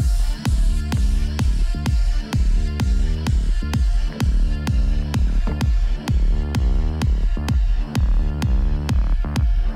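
A heavily low-pass filtered Serum synth bass from a sample pack pulses in a steady rhythmic pattern of muffled, throbbing notes with sharp transient clicks on each beat, loud and alone.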